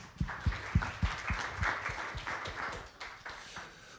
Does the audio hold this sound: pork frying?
no